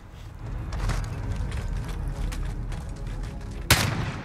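Gunfire from a SIG MCX Virtus carbine in the Call of Duty Modern Warfare video game, heard as scattered shots over a busy game mix with one loud, sharp report standing out near the end.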